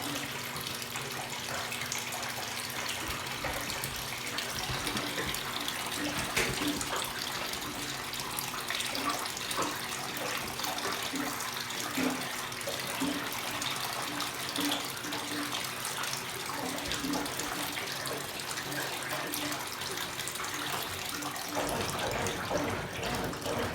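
An IT-06 washing machine drains water with a steady, moderately loud gurgling rush that runs unbroken for a long stretch, a faint mechanical hum underneath.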